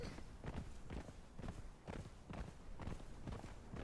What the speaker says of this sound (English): Is your horse named after the TV show Mannix?